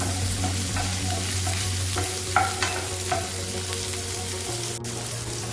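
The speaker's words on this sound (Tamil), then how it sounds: "நல்லா வதக்கிக்கணும்" Ingredients sauté in a pan over a medium flame for a tomato kuzhambu, a steady loud sizzle with repeated scraping stirs of a spatula and one sharp clink near the end.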